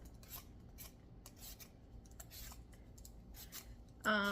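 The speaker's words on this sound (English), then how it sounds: "So we're going to peel our sweet potato." A sweet potato being peeled by hand in a kitchen, giving repeated soft rasping scrapes in short bursts, fairly faint, with a sharper louder scrape at the end.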